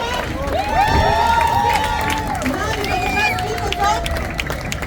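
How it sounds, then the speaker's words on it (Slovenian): Live show audience in Ljutomer cheering and clapping for a performer, with shouts and whistles over steady applause, fairly loud and close. "Dajme še en aplavz za Tirana Vojčiča."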